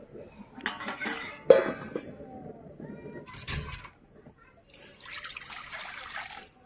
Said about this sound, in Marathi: आता त्याच्यावर एक झाकण ठेवते